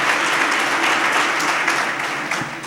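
Dense, steady audience applause at a Thursday evening talk program in Surat, close and loud, easing off slightly toward the end.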